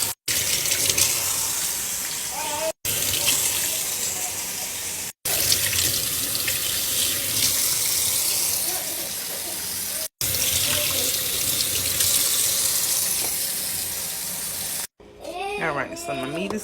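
A tap runs hard into a sink while raw meat is rinsed, a loud, close, continuous rush of water broken by a few brief cuts, with a voice heard near the end.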